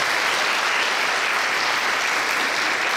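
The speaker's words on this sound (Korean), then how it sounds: "박수 한번 주십시오" A steady roar of audience applause at a poetry recital with classical guitar, many hands clapping at even loudness throughout, close and without any voices over it.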